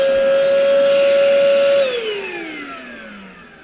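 A Craftsman 3-in-1 cordless vacuum running in inflator mode gives a loud, steady motor whine up close, then winds down in pitch and level as it switches off partway through.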